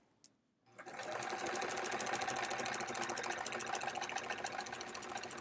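A sewing machine quilting a sampler quilt starts up after a brief click and runs continuously with a steady, fast mechanical whir and rattle, close and loud.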